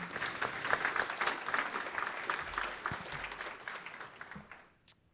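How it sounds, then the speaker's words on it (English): Warm applause at a college honors dinner for Karen and Brandon, a dense wash of clapping from a seated crowd that thins out and fades after about four seconds, ending with a few last claps. "would like to get another round of applause for you guys"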